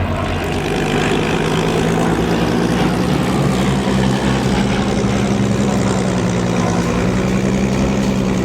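A propeller aircraft roars through a flying display at the Duxford air show, its loud, steady engine drone filling the whole stretch without a break.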